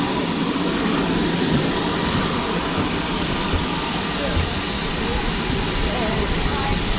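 A steam locomotive at a heritage railway hissing loudly and continuously, a broad steady roar of escaping steam heard up close, with faint voices underneath.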